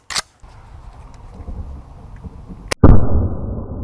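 A Ruger Mini-14 rifle under dust testing fires a sharp shot near the start, then after a pause a second sharp crack is followed by a loud metallic clatter and ringing.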